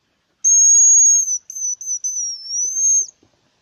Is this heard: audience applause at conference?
no